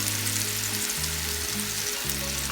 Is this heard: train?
no